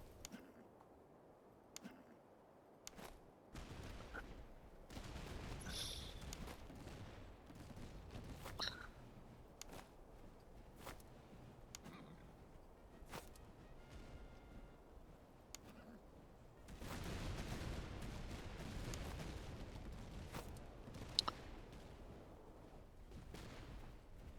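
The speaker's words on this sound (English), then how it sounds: "we'll fire one more volley here" Musket volleys in the Master of Command strategy game, with a Holy Roman Empire Kreis contingent in battle: scattered sharp gunshot cracks and ragged crackling bursts over a rumbling battlefield din, with no talking.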